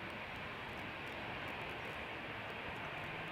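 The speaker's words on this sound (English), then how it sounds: "This is an A320." Airbus A320 jet engines roaring at takeoff at Schiphol's Polderbaan, a steady, loud broadband rush that holds without a break for several seconds.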